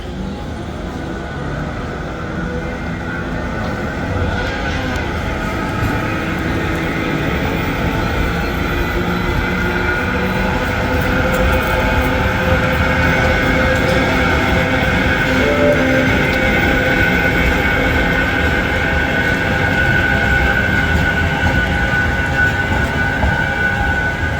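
A Manchester Metrolink tram passes along a city street line, a sustained loud rolling rumble with steady tonal motor whine that holds throughout.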